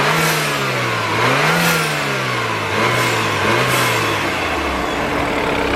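BMW F30 328i with its N20 turbo engine and newly installed CSF intercooler revs hard, its pitch climbing and dipping through several throttle blips before tapering off, loud and close with no talking.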